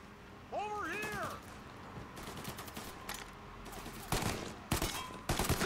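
Gunfire in the video game Mafia Definitive Edition: a few sharp, loud shots cracking out near the end, after a stretch of game ambience with a brief whistling tone and scattered clatter.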